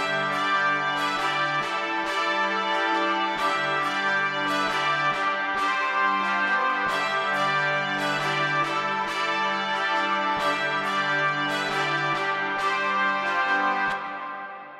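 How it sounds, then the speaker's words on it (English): A hard trumpets synth preset in Logic Pro X plays bold, bright brassy chords in a steady rhythmic pattern, loud and sustained, then fading at the end with no voices. "first I'm using this hard trumpets preset and I expand"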